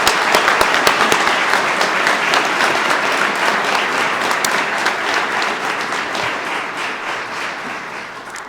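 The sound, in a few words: applause for new police officers at graduation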